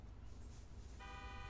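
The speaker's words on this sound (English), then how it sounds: "Third honk." A car horn honks in the GTA 5 video game, a short steady toot rising over a constant engine and road rumble.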